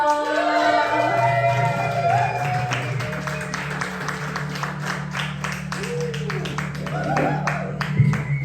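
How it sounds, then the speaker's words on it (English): Applause from a comedy club audience welcoming a stand-up comedian to the stage, steady dense clapping throughout with a held musical tone underneath and a few rising whoops. "Let's keep it going on. Keep on clapping."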